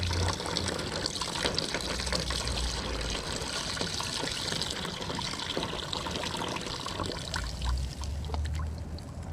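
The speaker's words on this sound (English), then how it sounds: "Just for fun, we'll put this hickory water in the" Water from soaked hickory wood chips poured into a Weber kettle grill, a steady splashing trickle and gush running for several seconds with faint crackly spatter.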